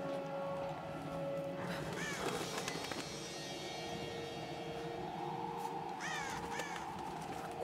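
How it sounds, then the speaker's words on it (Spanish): Crows caw in a snowy outdoor area of the Tomb Raider video game, a few harsh repeated caws rising over steady wind-like game ambience with a low droning background. "Cuervos en la nieve, no la hagan."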